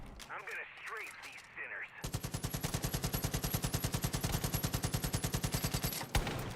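Sustained automatic gunfire from strafing enemies in Far Cry 5: a loud, rapid, evenly spaced burst lasting about four seconds, coming in after a short stretch of talk and game noise.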